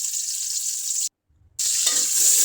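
Chopped onion, green chili and bay leaf land in hot oil in a cooking pot with a loud, bright sizzle. It breaks for a moment of near silence, then the crackling frying returns just as strongly.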